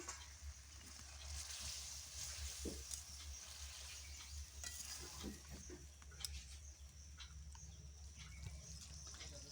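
Fried pointed gourd being stirred and sautéed in spice paste for a yogurt gourd curry, giving a quiet steady sizzle broken by soft scraping and stirring clicks, with no voices.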